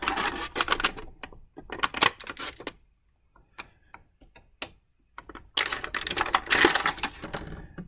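Small plastic bands holding a Masters of the Universe Origins He-Man figure in its package are snipped and pulled away, giving close, sharp clicks and crinkly rustles in bursts separated by quiet gaps.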